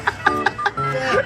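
A person imitates a turkey's gobble, a run of four short, sharp voiced bursts followed by a longer warbling call, close and fairly loud.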